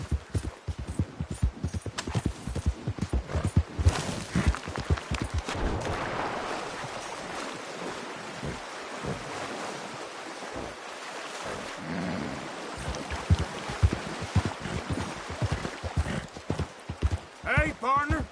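Horse hooves clip-clop in a steady walking rhythm in Red Dead Redemption 2, close and distinct, with a voice talking over parts of it and an outdoor ambience behind.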